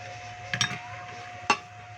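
A spoon stirs eggs with canned sardines for nuggets, making two soft, brief clinking scrapes against the bowl over a faint steady hum.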